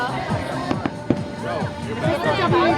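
Fireworks burst at the WEBN show in Newport, Kentucky, with a few sharp distant bangs and crackles under close conversation and crowd chatter.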